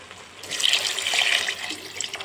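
Water pours steadily into a cooking pot for a couple of seconds while making peas pulao, a bright splashing rush that begins abruptly and tapers off near the end.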